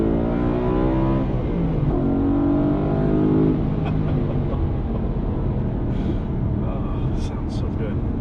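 A 2013 BMW M3 with the naturally aspirated S65 V8 and six-speed gearbox accelerates hard, its engine note climbing through the revs with gear changes, heard from inside the car with some voice alongside.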